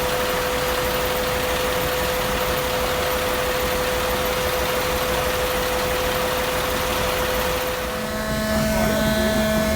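A gasoline engine driving the generator of a narrow-gauge railway motorcar drones at an even pitch with a constant tonal hum, continuous and fairly loud, shifting slightly near the end.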